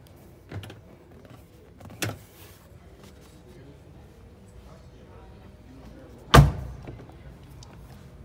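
A 2020 Jeep Gladiator door shuts with one solid, heavy thunk close by, following two lighter clicks of handling earlier, while someone talks quietly around it.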